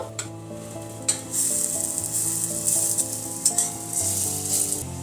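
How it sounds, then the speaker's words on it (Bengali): Mung dal fritters for a mung poppy seed recipe fry in hot oil with a loud, bright, continuous sizzle and a few sharp spatters and utensil knocks, under steady background music. "বড়াগুলো উল্টিয়ে পাল্টিয়ে ভালো করে ভেজে নিয়েছি।"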